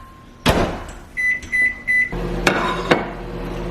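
Microwave oven reheating an egg casserole with onions, turkey and Kalamata olives: a door clunk, three short beeps from the keypad, then a low steady hum as it starts running, with a couple of soft clicks.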